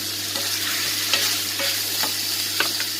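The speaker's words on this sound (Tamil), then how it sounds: "அப்படியே வதங்கட்டும்." Garlic kuzhambu with tamarind and country tomatoes sautés in a pan, a steady soft sizzle broken by several scraping spoon strokes as it is stirred, close up with no talking.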